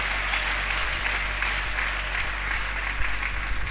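A congregation in a French-language church service claps steadily, a dense, even wash of applause that carries on without pause.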